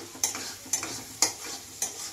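Masala for mutton curry frying with splashes of water, stirred with four sharp, evenly spaced spatula scrapes over a soft, steady sizzle, close and fairly quiet.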